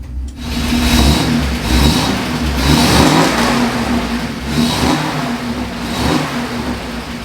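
A Toyota Land Cruiser FJ45 engine revving in repeated loud surges that rise and fall roughly every second and a half, heard close with a steady low rumble between blips and no voices.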